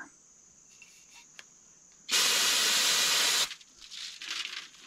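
A can of carburetor cleaner sprays a steady hiss for over a second at a wasp nest outdoors, loud and close, with insects buzzing and faint background noise around it.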